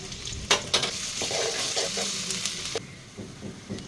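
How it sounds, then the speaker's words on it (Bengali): Chopped onion, garlic and ginger paste fry in a pan, sizzling steadily while a utensil stirs and scrapes with several sharp clicks, close and moderately loud, with no talking. "পেঁয়াজ রসুন আদা ভালোভাবে ভেজে নেওয়ার পরে"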